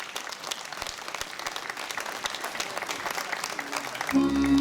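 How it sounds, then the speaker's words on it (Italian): An audience applauds the folk group of Meana Sardo, a sustained, moderately distant patter of many hands clapping, joined near the end by a sudden sustained tone as music begins. "il nostro primo vero applauso"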